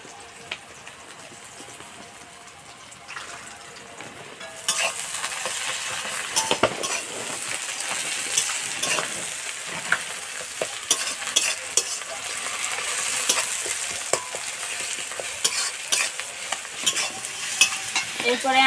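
Onions frying in a pan while being stirred for a broiler chicken curry, a steady sizzle with scraping spoon strokes that grows louder and busier partway through, with no talking.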